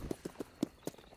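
Horse hooves clip-clop in Red Dead Redemption 2, five or six distinct, fairly close hoofbeats at an uneven walking pace with no talk over them.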